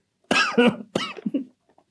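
Two sharp, close coughs in quick succession, loud and near, followed by silence.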